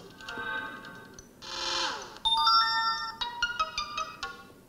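A Sony Xperia Tablet Z plays a series of its default notification tones, short bright electronic chimes and melodic bleeps in quick succession, fairly clear and close, with no voices.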